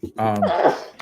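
A single sharp human sneeze, close and loud, with a quick breathy intake and a voiced burst, recorded during a live podcast taping.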